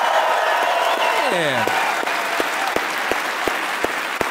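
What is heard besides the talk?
round of applause for campus police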